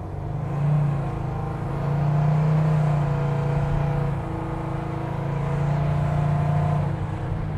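Custom Chevy C10 short-bed pickup engine revving steadily under about three-quarter throttle, a loud, sustained low rumble that swells and eases over several seconds with no talking.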